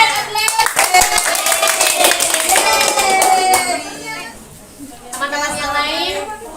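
A classroom of children applauding, a burst of brisk clapping that thins out briefly and then picks up again, with young voices chattering underneath.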